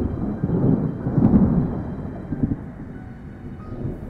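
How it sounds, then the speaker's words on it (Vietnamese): A deep rumble of thunder rolls beneath a roaring gust of strong wind in a storm, loud and continuous, swelling in the middle and then easing back. "Gió lớn thổi tới, sấm khàn đập trời."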